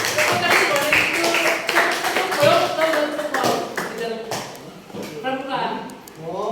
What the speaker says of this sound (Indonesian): Tepuk tangan buat itu.